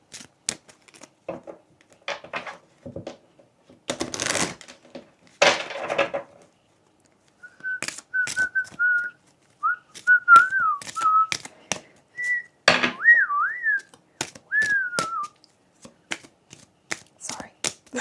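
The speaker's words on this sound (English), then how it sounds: "Just realised why was I whistling" Someone whistles a short, wavering tune in the middle stretch, surrounded by scattered clicks, shuffles and knocks close by.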